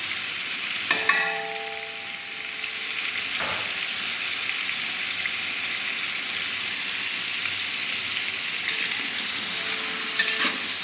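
Ginger garlic paste frying in a large pot for a big batch of chicken biryani, making a continuous close sizzle broken by occasional scraping stirs.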